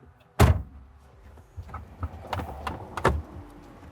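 A police car door opens with a sharp, loud thump, followed by a few lighter clicks and rattles of the latch and door.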